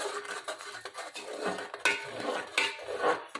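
A large serving spoon clinks and scrapes against a pot as sugar is stirred into boiling milk for rasmalai, irregular close metallic taps and scraping with no voices.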